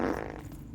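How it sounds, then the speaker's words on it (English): A low, buzzy fart noise in the video game Lost in Random, heard as one continuous rumble under a distant background hum, set back rather than close. "Fart noise in the distance."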